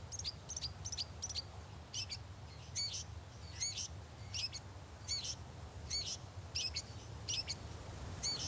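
Repeated short, sharp shrike calls in a steady series, fairly faint over a low background rumble, with no talking, in Namibia.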